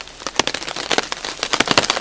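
Rain patters steadily onto a surface outdoors, with dense irregular drops and louder individual splats ticking close by, no voices over it.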